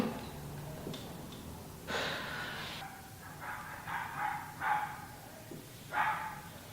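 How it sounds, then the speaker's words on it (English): A dog barks loudly in a cold, quiet place at night, several sharp barks and snorting breaths in irregular bursts, fairly near and with no talk over it. "Why is there a dog barking very loud at this place?"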